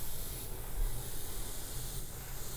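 An airbrush spraying primer onto a model, a steady even hiss held continuously at close range with no talking.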